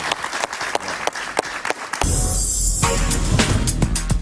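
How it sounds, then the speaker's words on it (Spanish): Applause for a guest in a Spanish-language television talk studio, starting as a loud steady wash of clapping that swells midway and continues to the end. "Un aplauso para Javier."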